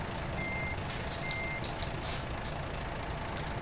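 Truck reversing alarm in the American Truck Simulator video game: two steady electronic beeps sound in a row, medium loud, over constant engine and traffic rumble with soft hiss bursts.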